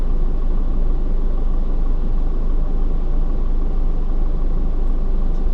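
Steady road traffic in Riyadh city at a signal: a continuous, loud rumble of car and truck engines, even throughout with no voices.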